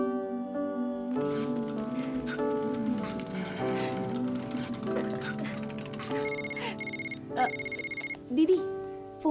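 A telephone rings during a dubbed South Indian romantic film scene: bright repeated electronic ringtone tones beside background music, loudest near the end, with dialogue around it.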